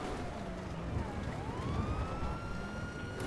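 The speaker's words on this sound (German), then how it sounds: "du mach mal die Sirene aus" A police siren wails in a GTA roleplay game, its rising and falling tone sweeping steadily over a rumbling vehicle engine and road noise, moderately loud and continuous.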